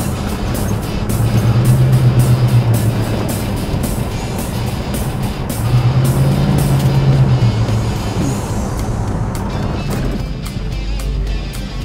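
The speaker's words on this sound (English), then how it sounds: "this 351 Cleveland with this Autolite, it really does accelerate pretty well" A large station wagon with a 351 Cleveland V8 and an Autolite 4100 carburetor accelerates, its engine roaring loudly in two rising surges separated by a shift, with wind and road noise throughout.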